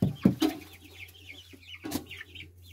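Chickens cluck close by in short, busy bursts, with a few sharp louder calls standing out over a quiet background.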